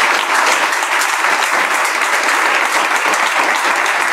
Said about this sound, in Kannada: ಅದು ಜೋರಾಗಿ ಚಪ್ಪಾಳೆ ತಟ್ಟಿ ನೋಡೋಣ